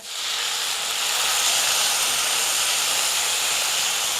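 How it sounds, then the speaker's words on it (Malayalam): A loud, steady hiss and sizzle of water poured into a hot pan of cooking beans, continuous and close, with no talking. "കുറച്ച് വെള്ളം ഒഴിച്ചു കൊടുക്കുക"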